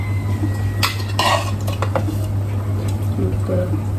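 Mutton and water going into a metal cooking pot, with sharp clinks and scrapes of utensils against the pot over a steady low hum, brief splashy bursts in between.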